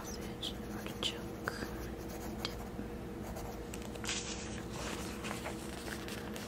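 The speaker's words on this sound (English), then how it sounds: "I'm gonna write that one down." A pencil writes on paper with a soft, continuous scratching under a low, steady background hiss, with faint rustles and small taps scattered through it.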